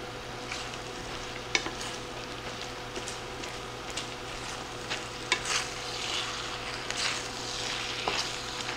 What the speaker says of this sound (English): We're gonna stir this all up.